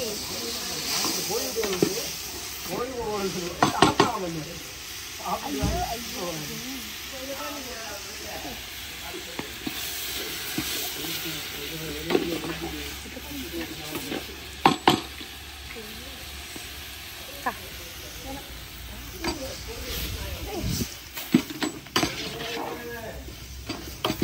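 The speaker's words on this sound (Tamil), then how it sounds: "வதங்கட்டும் பட்டு வதங்கினா காட்டுறேன்." Ingredients for coriander biryani sauté in a pan with a steady, moderate sizzle and occasional stirring scrapes, while a voice talks over much of the cooking.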